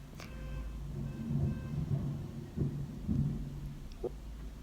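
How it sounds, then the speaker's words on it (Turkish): Low thunder rumbles softly through a rainstorm, rolling in a few swells under a steady hiss of rain, faint and distant, with no voices. "gök gürlüyor."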